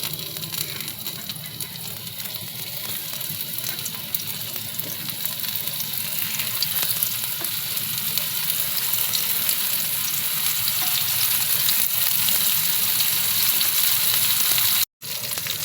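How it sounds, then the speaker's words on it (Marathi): Semolina-coated pieces fry in hot oil in a pan, a loud, close, continuous crackling sizzle that builds slightly over time, broken by a brief silent gap near the end. "सात तुकडे तळायला ठेवले आणि हे बाकीचे तुकडे मी नंतरसाठी ठेवले आहेत"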